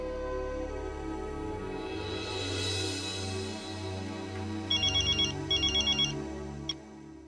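An electronic phone ringtone chirps in two short bursts over a steady background tone, fairly close and clear.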